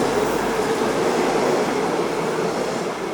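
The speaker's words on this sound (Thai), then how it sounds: "แสดงว่าขบวนที่ไปเมื่อสักครู่นี้เป็น 427 ครับ" A Thai local train rolls past a station near Surin with a loud, continuous roar and rumble of wheels and carriages. It sounds close, with no talking.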